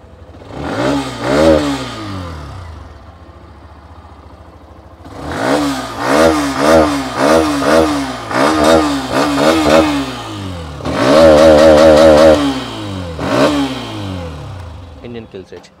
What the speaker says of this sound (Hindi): कर लेते हैं एक्सट्रीम को स्टार्ट।